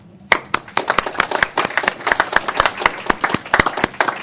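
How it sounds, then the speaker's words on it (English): A round of applause from a working-group audience at a CSRIC V meeting, a brisk patter of many hands clapping together for about four seconds in an indoor room, fairly close and loud. "the closing of all 5 would give them a round of applause"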